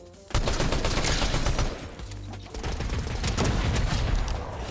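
Rapid submachine gun fire in a competitive online shooter game, dense sustained bursts that stay loud nearly throughout with a brief dip midway, no talking over it.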